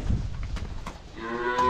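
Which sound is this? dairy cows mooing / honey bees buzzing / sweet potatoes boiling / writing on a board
dairy cows mooing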